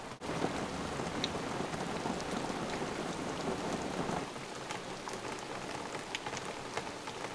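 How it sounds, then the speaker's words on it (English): Heavy rain drums hard and steadily on the roof of a hand-built camper during a Pacific Northwest storm, a dense close patter that eases slightly after a few seconds, with nobody talking. "It's raining more than I was anticipating, honestly."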